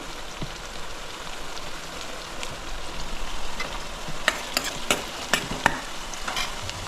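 Green chilies sizzle and fry in oil in a pan while cooking poha, a steady crackling hiss broken near the end by several sharp pops and spatula scrapes.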